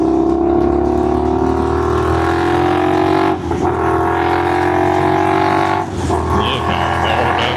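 A 2019 Indian FTR 1200S motorcycle accelerating hard, the engine note climbing steadily in pitch through two gear changes, loud and close throughout with wind rush.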